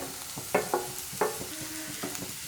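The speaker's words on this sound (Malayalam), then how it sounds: "നന്നായിട്ട് തന്നെ ഒന്നും കൂടി മിക്സ് ചെയ്തെടുക്കാം" Egg fried rice with scrambled egg being stirred in a pan, several distinct scraping strokes of a spatula over a low, steady sizzle.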